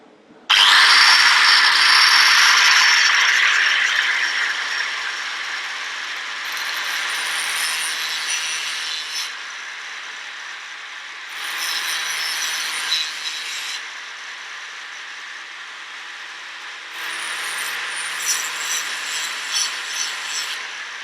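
Tungsten brazed Mattox multi-use disc sharpening, a loud continuous rasping grind in several passes with brief easing between strokes, no voices.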